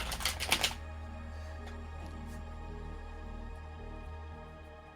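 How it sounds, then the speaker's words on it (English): Tarot cards are shuffled by someone with long nails, making a short burst of rapid, crisp riffling at the start. A steady low electrical hum carries on alone afterward. "I'm going to shuffle."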